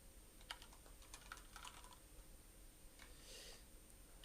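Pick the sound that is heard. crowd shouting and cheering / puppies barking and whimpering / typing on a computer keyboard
typing on a computer keyboard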